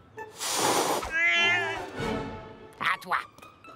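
A cartoon dog imitates a cat, with a voice giving a long exaggerated meow followed by a second drawn-out yowl and a couple of short sharp cries at the end.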